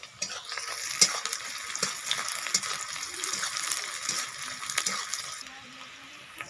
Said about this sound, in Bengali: তেলটা গরম হয়ে গেছিলো, আমি এর মধ্যে দিয়ে দিয়েছি পেঁয়াজ। তো পেঁয়াজটা ভালোভাবে নেড়ে নেব।